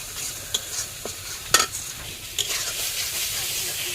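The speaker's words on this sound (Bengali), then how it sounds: "ভালো করে ভেজে নেব আমরা" Prawns being fried and stirred in a pan: a bright continuous sizzle with repeated scraping strokes and clinks of the spatula, close and fairly loud, no voices.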